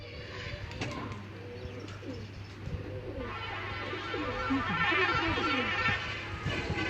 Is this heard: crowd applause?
no